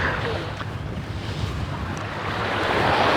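Surf rolling onto an Indian Ocean beach in Mauritius, a steady broadband wash of waves swelling slightly louder toward the end, with wind buffeting the microphone throughout.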